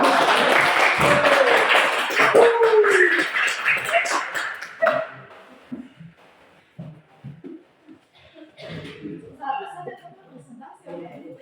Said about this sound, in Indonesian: Baik, kita kasih tepuk tangan untuk